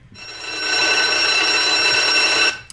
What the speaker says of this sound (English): don't ever press the alarm button because you will pretty much want to kill yourself